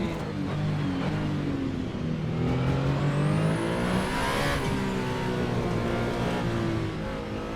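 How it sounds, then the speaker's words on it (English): Race cars, including a Toyota and a BMW, roar past in an Assetto Corsa race, engines revving hard and whining through gear changes in a loud, continuous, layered blur of motors close by. "Got a Toyota and a BMW."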